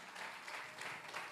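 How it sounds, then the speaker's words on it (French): Congregation at a church service applauding and cheering a visitor, a soft, distant wash of clapping with a few brighter claps, brief and steady in level. "nous le recevrons avec des acclamations."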